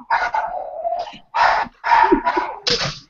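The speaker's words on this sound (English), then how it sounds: "We just have a barking dog." A dog barking indoors in a home where people work, a series of loud bursts in clusters separated by short pauses, close to the microphone, with no talk over it.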